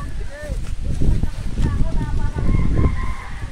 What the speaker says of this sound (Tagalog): Huhulihin namin yung manok.